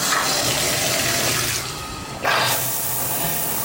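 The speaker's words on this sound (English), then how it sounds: "we have a nice shower head up here. Let's check out the water pressure and make sure it's good." Hotel shower head at a Holiday Inn Express in Roanoke, Virginia, runs in a loud, close rush of spraying water that dips briefly midway and then surges back, with no voices.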